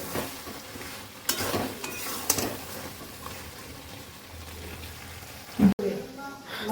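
Mutton being sautéed (kosha) in oil in a home kitchen pan gives a faint, low sizzle. Occasional clanks of a spoon or pan come through, and people talk over it.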